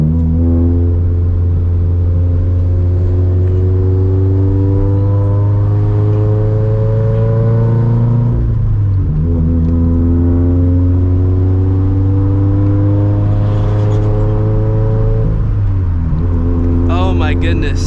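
Turbocharged 2013 Scion FR-S engine droning steadily at mid revs while driving, with clear pitch drops at two gear shifts, heard close from the cabin over a continuous loud hum.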